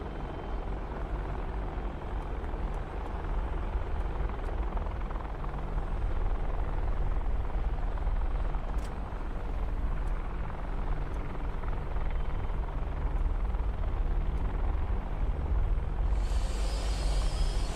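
Apache helicopter rotors in the DCS flight simulator game drone continuously with a steady low whir, constant and fairly even throughout, with no voices over it.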